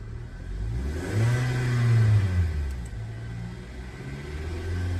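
A Kia Sportage engine, just fitted with a new crankshaft position sensor, runs close by and revs once, rising to a rumbling peak and easing back to a steady idle.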